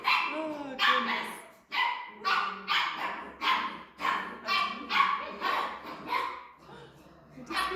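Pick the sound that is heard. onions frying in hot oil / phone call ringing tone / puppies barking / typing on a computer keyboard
puppies barking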